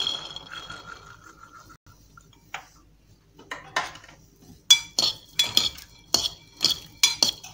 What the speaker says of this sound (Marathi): सर्वप्रथम आपण हे भेंडीचे बी भाजून घेऊयात.